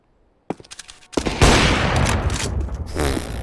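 Gunfire erupts in a Counter-Strike style competitive shooter match: a few sharp shots, then a dense, loud fusillade of rapid bursts and rattling automatic fire continuing to the end, close and without talk.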